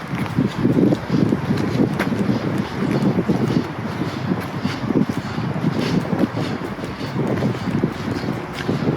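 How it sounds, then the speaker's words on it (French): Wind buffets the microphone outdoors beside a road on a hike, heavy gusty rumbling throughout, loud and close with continuous fluttering bursts and no talking. "Il y a du vent ici."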